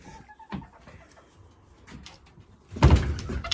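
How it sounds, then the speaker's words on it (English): A wooden chicken coop door is pushed shut with a sharp knock and rattle, while hens cluck softly nearby in a quiet backyard setting. "And shut the door"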